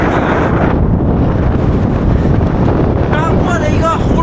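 Strong gale roaring against the microphone while cycling through a mountain pass in Xinjiang, a loud continuous rushing buffet with no letup, brief faint tones near the end.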